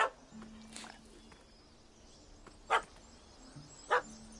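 Two short, sharp dog barks from a puppy in The Witcher 2, spaced about a second apart and moderately near, with a low ambient game hum running beneath them.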